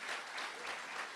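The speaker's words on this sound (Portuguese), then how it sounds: "Aplauda bem forte ao Senhor." A church congregation applauds during a worship service, a brief, faint, steady patter of many hands with no voices over it.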